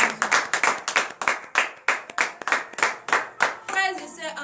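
A congregation at a morning prayer service claps in quick, uneven bursts that rise and fade in waves, close and loud, ending in a short cheer or acclamation.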